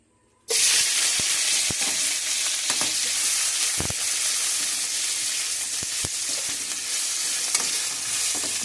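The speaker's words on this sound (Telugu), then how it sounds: "బాగా వేగాలండి ఇది" Oil on a stovetop bursts into a loud, steady frying hiss that holds unbroken, with occasional crackles and pops.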